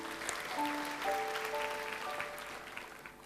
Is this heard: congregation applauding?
yes